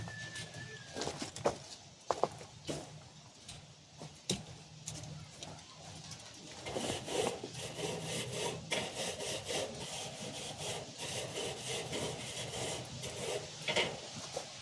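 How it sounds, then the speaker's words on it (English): A metal grill grate is scraped off before cooking venison burgers outdoors, giving repeated rough rasping strokes with a few sharp knocks, while birds call faintly in the background. "Get that grate scraped off there"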